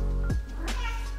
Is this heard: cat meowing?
yes